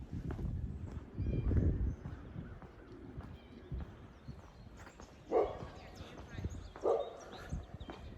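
A dog barks a few times at a distance during an outdoor walk. Three separate rough barks stand out against quiet background noise and soft footsteps.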